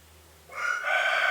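Brooding hens on a Kienyeji poultry farm give a close, sustained burst of loud clucking and squawking that starts abruptly partway through after near silence, with no talk.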